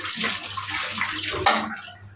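Tap water pours steadily into a sink during dishwashing, a close, continuous splashing rush with a brief clatter near the middle.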